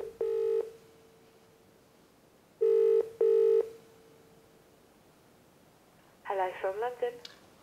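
An outgoing telephone call rings out in three spaced ringback tones, the middle pair close together, before someone picks up and a voice answers briefly at the end.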